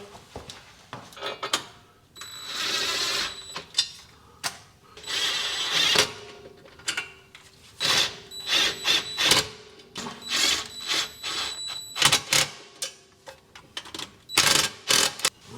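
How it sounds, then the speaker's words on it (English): A power driver whirs in short bursts as screws are started into a differential skid plate on a Ford Bronco, with clicks and clanks of metal parts between the runs. "we can go ahead and get the rest of the screws going"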